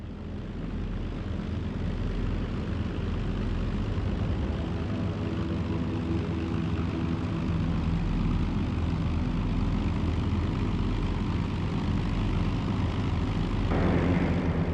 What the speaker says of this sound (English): It included 2 attacks by Italian aircraft.